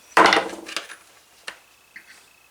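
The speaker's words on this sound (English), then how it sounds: "This is a tent stake mallet." A tent stake mallet strikes a leather tooling stamp once with a sharp, loud woody knock, followed by a few fainter taps and light handling noises nearby.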